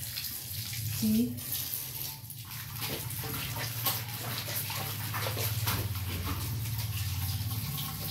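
Water pouring down in a waterfall-like stream during hot weather, a continuous rushing splash with a dog whimpering and a person speaking briefly over it.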